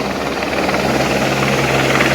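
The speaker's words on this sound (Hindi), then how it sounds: "ये देखो ये हेलीकॉप्टर लैंड हो रहा है यहाँ।" A helicopter lands at the Kedarnath helipad, its rotor and engine roar steady, loud and close throughout, with no break.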